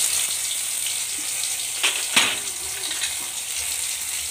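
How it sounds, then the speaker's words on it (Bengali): Spice paste of chili, cumin and ginger frying in a pan, a steady close hiss of sizzling with a few light taps and scrapes of a spatula partway through, no talking. "মশলাটা ভালো করে ভেজে নিব"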